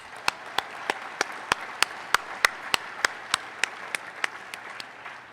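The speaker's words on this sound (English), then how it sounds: "how about a round of applause for your friends, your family, your loved ones who are here today" Applause at a swearing-in ceremony for friends, family and loved ones, heard as a steady run of distinct claps at an even pace over a soft wash of crowd clapping.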